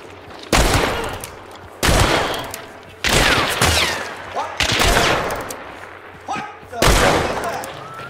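Gunfire from the video game Hunt: Showdown comes in about five loud, close bursts a second or so apart, each ending in a rumbling echo. Voices talk between the shots.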